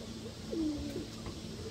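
Pigeons kept for racing coo softly in a loft before feeding, a low throaty call rising briefly mid-moment over a steady background hum.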